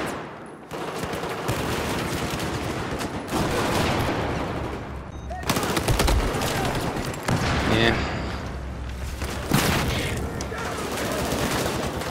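MP7 submachine gun fire in Battlefield 4, with rapid continuous bursts and dense fusillades crackling throughout, broken by short pauses, loud and close, amid battlefield noise.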